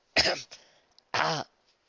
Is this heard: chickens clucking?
no